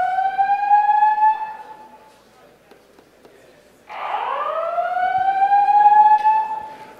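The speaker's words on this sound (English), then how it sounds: "I'm usually not of a mind to continue presentations when the klaxon horn's going on" A klaxon alarm horn blares through a presentation hall in two long rising wails separated by a brief lull, loud and piercing over faint room noise.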